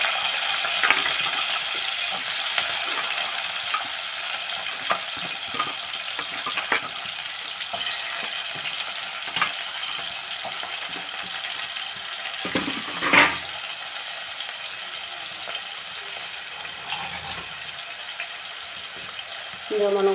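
Green chillies and onions frying in hot oil for a fenugreek-leaf and potato curry, giving a steady, fairly quiet sizzle with occasional clinks and a brief louder clatter partway through.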